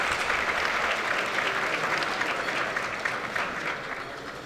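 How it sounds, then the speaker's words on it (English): Sustained audience applause at an awards luncheon, a dense, even roar of many hands clapping in a large room for over four seconds, fading slightly toward the end. "Let's give them a round of applause."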